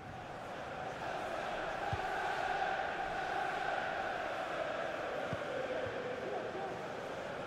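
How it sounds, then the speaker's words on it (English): A stadium crowd in FIFA 25 during a Chelsea vs Liverpool Champions League final keeps up a steady, moderately distant roar of encouragement that swells slightly without a sharp peak. "Crowd encouraging him to take it on"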